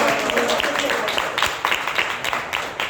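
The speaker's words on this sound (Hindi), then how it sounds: "जोरदार तालियां होनी चाहिए" A crowd at a motivational gathering applauds loudly and steadily, a continuous rattle of many hands with scattered sharper claps standing out.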